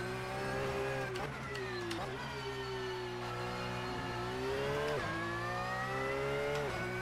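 A race car on soft tyres runs a flying lap in Assetto Corsa, its engine droning loud and steady, pitch climbing through each gear and dropping sharply at upshifts roughly every second or two, with a voice talking over it.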